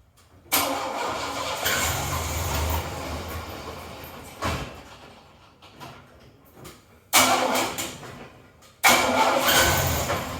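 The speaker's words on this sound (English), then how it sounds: "It's got no clutch, so I gotta start it in gear." A car with no working clutch is started in gear: the starter churns and the engine catches, then runs at a rough idle, with a couple of sudden louder bursts as it lurches, all close up with no talk.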